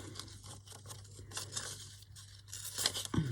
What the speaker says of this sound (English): Just rip that a bit more